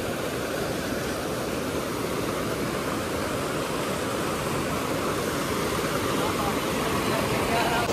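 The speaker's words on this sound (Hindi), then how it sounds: "इतना ज्यादा पानी है यहाँ पर," A mountain stream rushes over rocks in Uttarakhand, a loud, constant roar of churning water that fills the whole stretch without any break.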